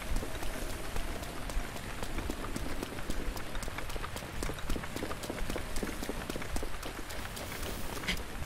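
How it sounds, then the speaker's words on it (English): Rain falling in the video game Breath of the Wild, a steady patter of drops with soft repeated taps, continuous and fairly close, and faint footstep-like beats underneath. "Why won't it stop bloody raining?"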